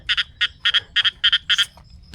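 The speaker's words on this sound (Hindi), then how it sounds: "ये किसकी आवाज़ है? मेंढक की।" Six quick bursts of frog croaking in a steady rhythm, each a short raspy double pulse, close and clear, with a faint low rumble beneath, on a hiking trail in the Margalla Hills, Islamabad.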